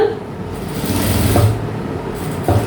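A sewing machine hums in a short, continuous run close by while stitching a child's school uniform trouser, with small rhythmic ticks and no voice over it.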